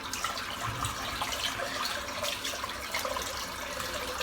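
Tap water runs steadily into a sink basin being refilled during a head shave, a continuous broadband splash and gurgle at moderate level with no talking.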